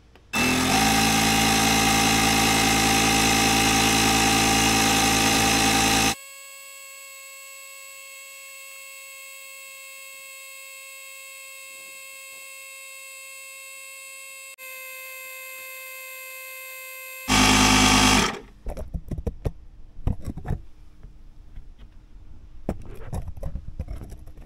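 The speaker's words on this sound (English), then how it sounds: "it's an oilless little baby compressor that's in there making the noise" A small oilless air compressor built into an Everstart Maxx 1600 amp jump starter and air compressor combo runs with a loud, steady mechanical drone, later dropping to a quieter hum before a brief loud burst and scattered clicks and handling noises.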